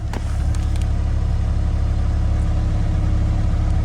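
Engine of a GMC Yukon Denali running at a Copart auction yard just after being started, a steady loud low idle with a brief clatter at the start and no speech.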